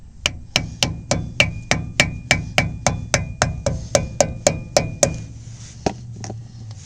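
A hammer taps a metal cap back into place on a car part, giving about eighteen sharp, evenly spaced knocks with a ringing tone. A few slower, softer taps follow at the end.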